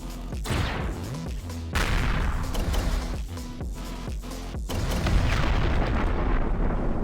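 A green turret firing in a space combat video game, a barrage of heavy booming shots and explosions in quick succession over a continuous rumbling roar, loud and sustained with no voices.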